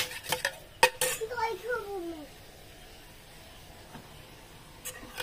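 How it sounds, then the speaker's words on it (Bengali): Spoon clinking and scraping against a bowl as sour yogurt is whisked for raita, a few sharp metallic taps in the first two seconds with a voice and brief talk, then quieter room tone with occasional soft clinks. "টক দইটাকে একটু ভালো করে ফেটিয়ে নিতে হবে।"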